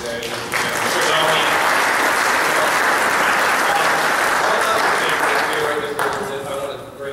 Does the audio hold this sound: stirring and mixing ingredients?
no